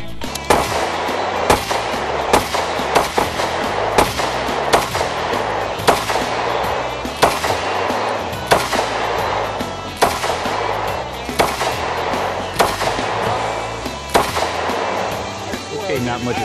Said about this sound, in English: And finally, it was our turn to shoot some guns.